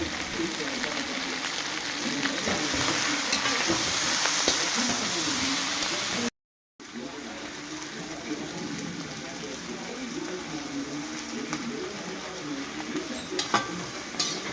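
Dried red chillies sizzle and crackle as they fry in a pan for a rustic chicken dish, with steady stirring scrapes throughout; the sound cuts out briefly midway, then resumes just as loud.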